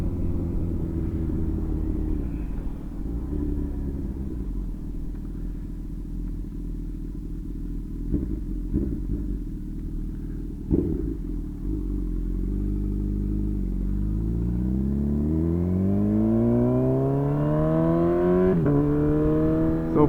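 A Honda CB1000R motorcycle rides through town, its engine a steady close rumble that swells into a long rising rev near the end as it accelerates, with no talking.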